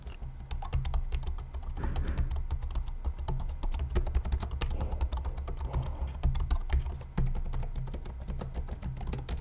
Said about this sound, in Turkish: Yani klavyeyi kullanıyorsunuz, neredeyse ben duymuyorum yani.